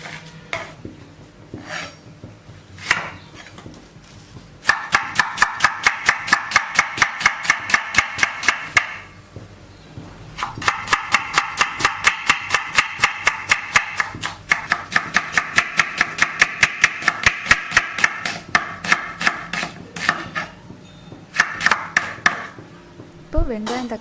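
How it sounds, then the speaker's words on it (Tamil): A knife chops onions and tomatoes for Tamil-style tomato rice in rapid, steady strokes on a board, coming in long bursts separated by short pauses, with a few scattered kitchen knocks at the start. "இப்போ வெங்காயம் தக்காளி எல்லாமே கட் பண்ணியாச்சு."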